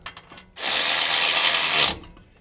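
A ratchet tightens a new bolt and lock washer on a Subaru Sambar front ball joint, one loud continuous burst of rapid clicking lasting over a second, preceded by a few faint clicks and metal taps.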